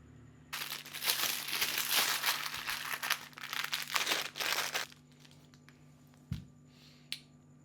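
A plastic bag being filled with a smooth cream cheese mixture of sugar and milk for garlic bread crinkles busily for about four seconds, close and fairly quiet, followed by a few faint handling taps.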